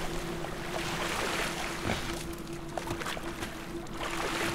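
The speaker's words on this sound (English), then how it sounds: "It just let some more water in." Water rushing and flooding into an area in the game Black Mesa, a steady loud wash of turbulent water with a faint constant hum underneath, continuous throughout with no voices.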